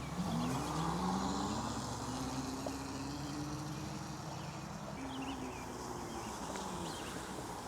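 A CFMoto CForce EV110 electric youth ATV driving under throttle, a steady whining electric motor hum that rises and falls in pitch as it speeds up, heard outdoors over a constant background rumble.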